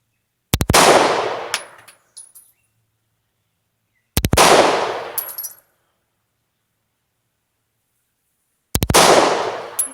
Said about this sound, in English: This is an 8-round magazine. I did not have one in the pipe. And I'm shooting at a distance of 15 yards.